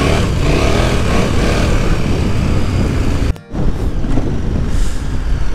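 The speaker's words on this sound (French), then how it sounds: "Elle sait tout faire cette moto." A trail motorcycle ridden off-road in Occitanie roars loudly and continuously, mixed with heavy wind rush, with a brief dropout near the middle.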